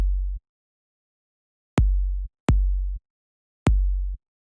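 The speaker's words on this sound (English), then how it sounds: "So what this is it's just an 808 kick." A processed 808 kick drum hits four times in an uneven pattern, each a deep booming thump with a sharp click at the front and a short decaying low tail, loud and dry with nothing else.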